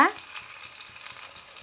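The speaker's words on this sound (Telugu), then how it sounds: "పోపు కొద్దిగా ఆయిల్, మనం ఆవాలు అనేది అప్పుడే వేసేస్తామండి. కొద్దిగా జీలకర్ర, అలాగే తెల్లగడ్డ" Mustard seeds, cumin and garlic sizzle in a little tempering oil, making a steady, close hiss with faint crackles throughout and a brief louder sound at the start.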